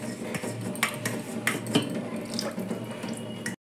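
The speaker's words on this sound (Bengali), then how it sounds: "জলটা ঝরিয়ে নিচ্ছি।" Water draining from a pot of steamed cabbage in a kitchen, a steady splashing pour with a few metallic clinks of utensils against the pot, fairly close, before cutting off abruptly at the end.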